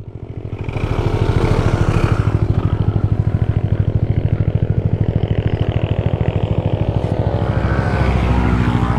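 A motorcycle engine cranks and catches, settling into a steady, loud, throbbing idle that runs the whole time without any talk.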